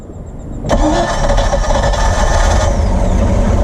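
A small-block Chevy boat engine cranks and catches abruptly on a Crownline boat in a backyard with water running through it, then settles into a loud, steady rumbling idle that continues to the end.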